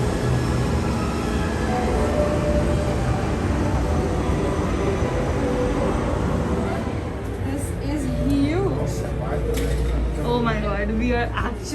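Steady rumble and rattle of the Hogwarts Express ride carriage at Universal Studios Orlando, heard from inside, with voices talking over the constant low roar.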